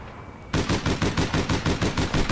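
Rapid automatic gunfire in APB Reloaded, a steady rhythmic stream of loud, close shots starting abruptly after a half-second of quieter game ambience.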